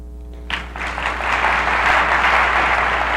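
An audience at a recognition program event votes by applause, breaking into steady, fairly loud clapping after a brief hum, sustained to the end.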